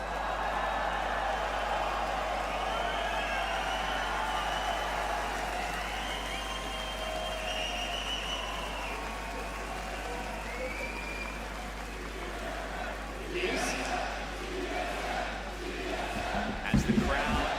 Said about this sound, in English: Crowd, make some noise!